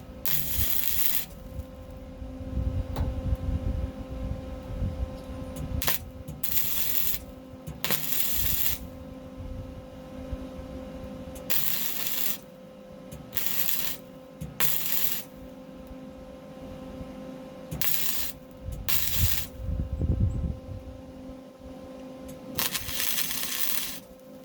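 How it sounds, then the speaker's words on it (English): A patch is welded into a door of a 1978 Ford F100. About a dozen short, loud, crackling bursts come close by, each lasting roughly a second, separated by quieter pauses filled with handling noise. "I'm gonna weld this patch in this door here."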